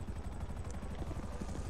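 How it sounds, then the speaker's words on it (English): A helicopter in Grand Theft Auto V Online gives a steady low rotor thump with a rapid beating pulse, heard alone for under two seconds. "I love how you can hear the helicopter."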